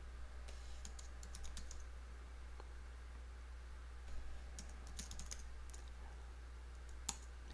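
Computer keyboard typing while logging into a cloud portal and searching a marketplace: scattered, quiet clicks in short bursts over a steady low hum, then a single slightly sharper keystroke near the end.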